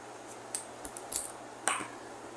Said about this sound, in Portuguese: Agora, eu vou cortar o meu fio.